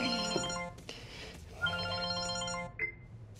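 A telephone rings in a domestic scene from a comedy series, repeated electronic melodic ring tones in bursts with short gaps, fairly loud and clear, no talk over it.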